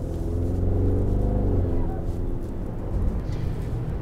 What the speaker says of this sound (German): wir hören eigentlich nur das Auspuffgeräusch von hinten